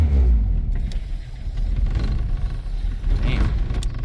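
Honda Integra engine revving as gas is applied, a loud rough rumble that swells and falls unevenly, close by and running alone without talk throughout.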